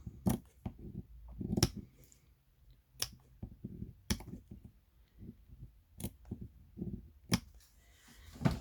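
Sharp, crisp snips of large scissors cutting, repeated at irregular intervals with soft rustling between, close and fairly quiet.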